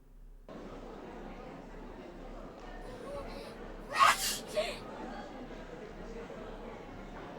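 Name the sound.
character sneezing in video game Corpse Party: Book of Shadows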